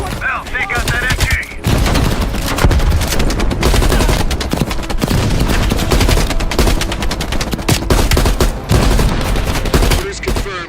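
Sustained machine gun fire from the video game Call of Duty: Cold War, loud dense bursts of rapid shots with brief pauses, layered with other battlefield gunfire and effects for the whole stretch.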